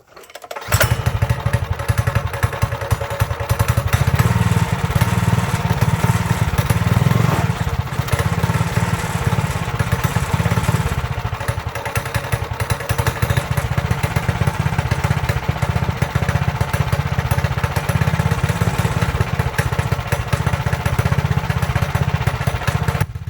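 A Manco Dingo mini loader's engine starts and then idles steadily, a loud, continuous rough chugging drone that runs unbroken and close by.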